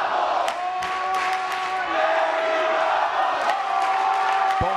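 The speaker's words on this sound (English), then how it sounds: "you hear the crowd chanting Eddie Bravo." A crowd at the Metamoris 3 grappling match between Royler Gracie and Eddie Bravo chants and cheers in a sustained, rhythmic roar. Commentators talk over it.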